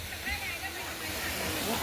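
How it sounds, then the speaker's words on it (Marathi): Small rocky waterfall near Panvel, Navi Mumbai, giving a steady broadband rush of falling water close by, with people chattering and calling out over it throughout. "फायनली आम्ही छोट्या धबधब्याजवळ पोहोचलेलो आहोत"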